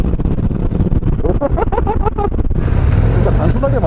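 A Harley-Davidson CVO Street Glide motorcycle engine revs up, its pitch climbing in quick rising pulses before shifting to a deeper steady growl, with someone talking over the engine.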